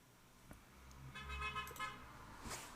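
Car horn honking outdoors: a couple of short toots from a nearby road with traffic hum underneath, no talking.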